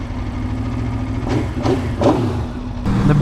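An Aprilia Xtrenta track motorcycle engine runs close and loud on a racetrack, a steady rumbling drone broken by several short rasping surges.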